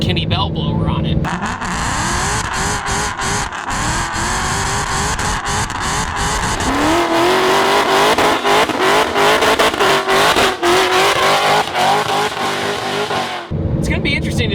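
A 1000-horsepower Ford Shelby GT500 Mustang with an upgraded supercharger roars as it drives, its engine note rising and surging loudly under acceleration with a harsh, continuous drone, heard from inside with a voice talking over it.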